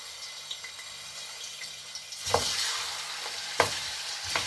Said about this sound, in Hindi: गोश्त को हम ऑयल में 10 मिनट के लिए अच्छे से फ्राई करेंगे